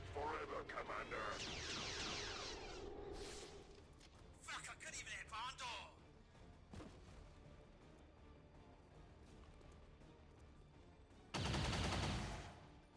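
Bursts of gunfire in XCOM 2: Long War of the Chosen, with a heavy volley at the start, a choppier burst soon after, and another loud burst near the end, separated by quieter game ambience.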